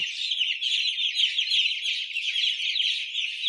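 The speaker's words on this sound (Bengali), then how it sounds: "তার আগে আমি শালিক পাখিগুলোকে দেখাই দেখতেই পারছেন এই সিলিকের উপর অনেকগুলো পাখি ছিল" A flock of myna birds chirps steadily and densely on a poultry farm, a continuous bright twittering chatter that stays fairly loud throughout with no voices.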